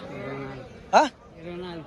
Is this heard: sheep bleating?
yes